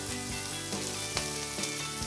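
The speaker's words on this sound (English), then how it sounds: "Toss those fresh vegetables in. Got the pan heated to high right now." Fresh vegetables sizzle loudly in a pan heated on high, a steady crackling hiss with a few sharp pops and stirring scrapes, no talking.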